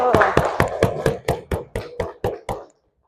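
About ten rhythmic claps from a classroom group, crisp and evenly spaced at a steady beat, fairly close, ending abruptly in silence.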